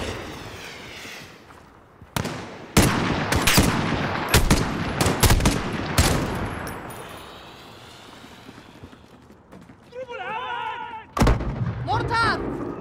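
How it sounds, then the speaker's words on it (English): Mortar and gunfire barrage in Call of Duty: Modern Warfare (2019), loud sharp blasts and rattling bursts in quick clusters, with shouted voices between the explosions. "Mortar!"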